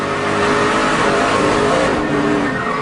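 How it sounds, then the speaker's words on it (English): A loud NASCAR racing truck engine roars steadily at high revs for the whole stretch, with a dense, continuous growl and no voices. "You hear Kyle stay in the throttle and get that truck to turn on around, not to back into the outside wall."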